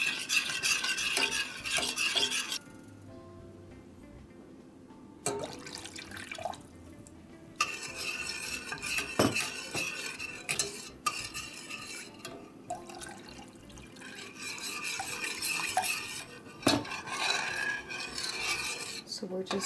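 A spoon scrapes and stirs milk cooking in a pan over medium heat, with repeated rubbing strokes in bursts and brief pauses, close and soft, with no talk.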